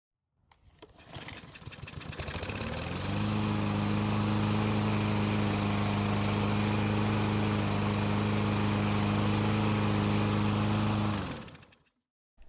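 Self-propelled lawn mower with a starting fault, pulled into life after priming, then running with a steady loud engine drone for several seconds before cutting out as the handle is released.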